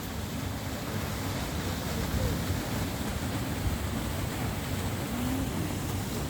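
Yongmun waterfall near Haeinsa in Gaya-myeon, Hapcheon, pours in a steady, broad rush of falling water that holds even and unbroken throughout, with no voices over it.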